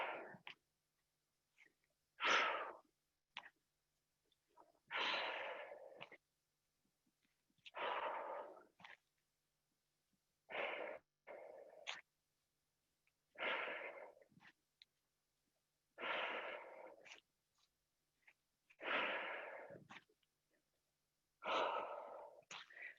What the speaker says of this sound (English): my exhales will tell you the speed that I'm doing these